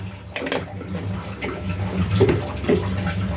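Water runs and splashes into a pot of rice in a home kitchen, a steady close pour that swells and dips over a few seconds with faint clinks.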